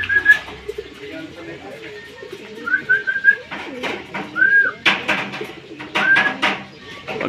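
Pigeons cooing in soft, repeated low warbles close by, with bird whistles and chirps mixed in and muffled voices in the background.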